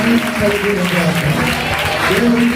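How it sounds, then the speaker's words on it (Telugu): A church congregation claps in praise, a steady mass of hand claps mixed with voices and a sustained musical tone, loud and close throughout. "ఫస్ట్ ఇయర్ ఎంత సక్సెస్ఫుల్ గా జరిగించిన దేవునికి చప్పట్లు కొట్టి స్తోత్రం"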